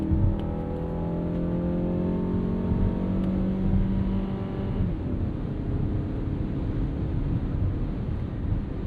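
A 2026 Mazda CX-5 crossover accelerating hard on a highway ramp after a kick-down, its engine note rising steadily for several seconds, then settling into broadband road and wind noise heard from inside the cabin.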